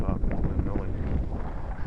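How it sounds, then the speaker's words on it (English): Gusty outdoor wind buffets the microphone in heavy low rumbles at an RC model airplane flying field, continuous and loud with no clear voices. "It's getting windy out here."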